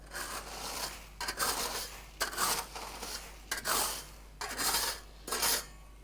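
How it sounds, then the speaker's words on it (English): A tool scraping away the sand setting bed from a paver base, heard as about six rough rasping strokes in a steady rhythm, close by with faint pauses between them. "we're going to take away our setting bed, just like Tim did with his sand."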